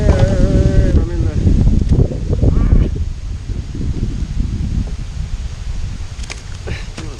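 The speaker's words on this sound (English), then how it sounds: "It's windy out here." Steady, blustery wind roaring against the microphone throughout at Occoquan Reservoir, with a person speaking briefly at the start.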